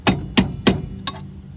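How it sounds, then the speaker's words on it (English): A hammer taps a screwdriver to drive out a rear strut bolt on a 1991-2003 Ford Escort or Mercury Tracer: four sharp, close metallic knocks in quick, slightly uneven succession. "start tapping it through with your hammer and your screwdriver down in the hole here"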